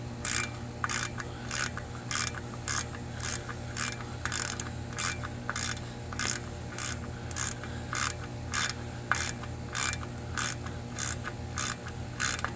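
A ratchet tightens the oil level sensor bolts on a 2013 Chevy Malibu, giving a steady run of rapid close clicking bursts in an even rhythm over a low background hum.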